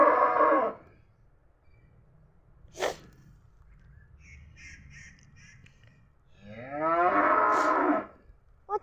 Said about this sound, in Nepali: कति कराउँछ है यो गाई आज